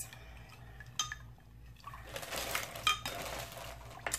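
Shea butter being mixed into homemade cucumber lotion in a container, with liquid swishing, stirring scrapes and light clinks of a utensil against the vessel, close and intermittent, growing busier toward the end.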